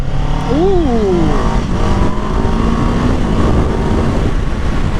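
A 2024 Kawasaki Ninja 7 Hybrid motorcycle accelerates loudly in boost mode close by, a rising whine over a rough, steady roar.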